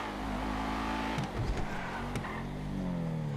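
A 2010 BMW E92 M3 in GTA 5 accelerates hard, its engine note climbing in pitch with brief dips at quick gear shifts, loud and steady throughout.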